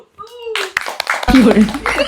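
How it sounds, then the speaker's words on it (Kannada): Several people clap their hands indoors during a guess-the-actor challenge game. The claps are quick, uneven and close, mixed with loud chatter and a voice. "ನೀವೆಲ್ಲರೂ ಚಪ್ಪಾಳೆ ಹೊಡಿಬೇಕು"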